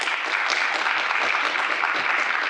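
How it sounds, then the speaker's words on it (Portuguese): An audience at a geosciences round-table on entrepreneurship and innovation claps in a steady, even burst of applause, dense and close throughout, with no voices over it. "Uma salva de palmas,"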